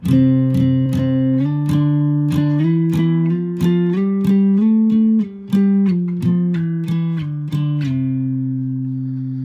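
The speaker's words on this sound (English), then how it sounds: "it just makes a nice little harmonic power chord" An electric guitar plays a steady stream of picked, sustained muted harmonic power chords with a rich tone, close and loud, changing pitch now and then.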